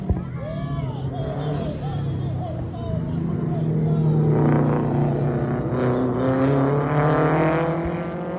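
Race cars roar around Davao Circuit, engine drone swelling and fading as cars pass at moderate distance, with people talking and cheering nearby over the noise.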